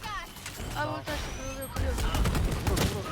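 Rapid gunfire bursts crackle in the shooter game Valorant while players talk excitedly over the shots throughout.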